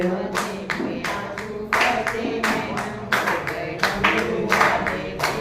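Devotees clap in rhythm during a Shiva Mahapuran devotional bhajan, a steady series of sharp, fairly loud claps over sung music and voices.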